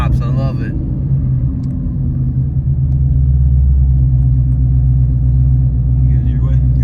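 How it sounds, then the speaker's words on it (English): Exhaust of a 2016 Mustang S550 with a 2.9L Whipple supercharger, heard from inside on a ride along as a loud, deep, steady rumble with brief crackle at the start, while people talk over it. "Great sounding exhaust. Oh yeah. Snap, crackles, and pops."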